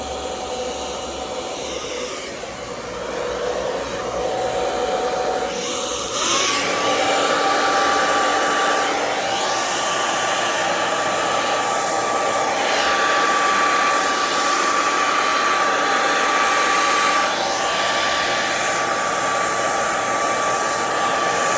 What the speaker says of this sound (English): Where is that blow dryer?